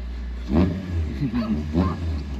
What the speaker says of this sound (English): Hot rod car over there